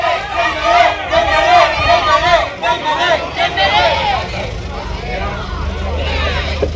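Barcelona supporters greet Dembélé at a training session, a loud crowd of overlapping shouting voices and cheers, close and continuous, easing off toward the end.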